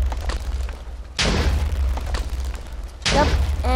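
A gas station blows up in a video game, with two loud booming blasts about two seconds apart, each a sudden broadband burst that lingers under a steady low rumble; voices talk around the explosions.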